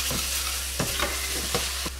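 Mushrooms stir-frying in a wok with vegetarian sauce, spring onion and sesame oil, a loud, steady sizzle broken by four or five quick scraping tosses of the spatula, no voices.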